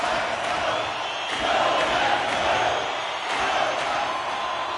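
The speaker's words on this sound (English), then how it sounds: "you can feel the energy in this crowd" Arena crowd at an Oilers versus Golden Knights hockey game during a tied period, a dense, steady roar of many voices that swells and dips slightly without a break.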